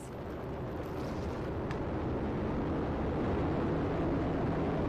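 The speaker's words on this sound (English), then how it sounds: "And liftoff of the United Launch Alliance Vulcan rocket" A United Launch Alliance Vulcan Centaur rocket lifts off with a broad, steady rumbling roar that builds gradually and stays continuous throughout.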